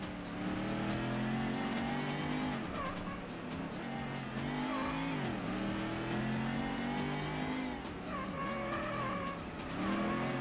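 Race cars in the Ford Racing video game roar in a pack, engine notes rising and falling through repeated gear changes, with tire squeal and skidding over a steady, loud motor drone.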